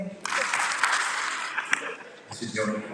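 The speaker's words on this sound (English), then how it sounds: "Clap your hands." Audience applause at a school Pan African event, a dense burst of clapping from a crowd rising quickly and holding steady, briefly dipping before picking up again, with voices mixed in.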